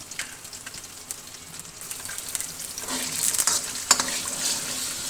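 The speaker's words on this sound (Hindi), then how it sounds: "थोड़ी देर के लिए हम इसको सौते करेंगे।" Crushed garlic sautéing over a low flame in melted ghee in a karahi, a steady close sizzle with occasional stirring scrapes that grows slightly louder.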